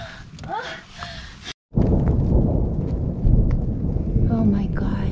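A deep roll of thunder from a storm near Angora Peak, Lake Tahoe, rumbles in after a brief pause and keeps grumbling loudly, following a moment of a person's voice.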